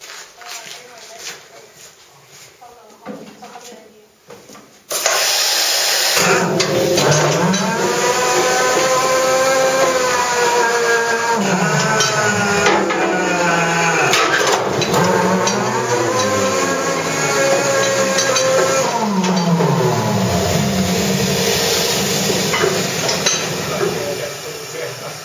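A compressed-air scoop loader runs underground in a mine, starting abruptly after a few quiet seconds and then roaring loudly and continuously with shifting pitches as it works. A voice talks under the noise.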